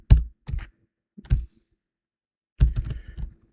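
Bursts of computer keyboard typing come in short separate clusters with pauses between them, close and fairly crisp, with no talking.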